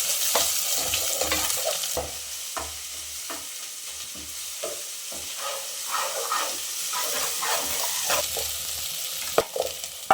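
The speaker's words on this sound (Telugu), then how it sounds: "ఇప్పుడు ఆనియన్, కొద్దిగా అల్లం వెల్లిగడ్డ పేస్ట్, అదంతా కూడా ఒకసారి మిక్స్ చేసేసుకోవాలి." Chopped onion with ginger-garlic paste stir-fried in a pan for broad bean (chikkudukaya) biryani: a continuous close sizzle and hiss broken by repeated scraping and clinking strokes of a spoon stirring the mix.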